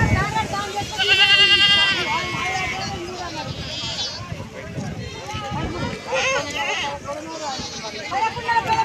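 Goats bleating at a weekly goat and sheep market in Keshampet, a group of ten for sale, with several loud close bleats among busy crowd chatter and voices talking throughout.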